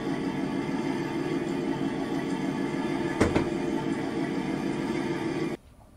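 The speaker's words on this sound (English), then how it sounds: "The train has left the building and you can still hear it." A model railway train plays through loudspeakers set around the layout, giving a steady, loud rolling rumble with a brief sharp clatter midway before the sound cuts off abruptly near the end.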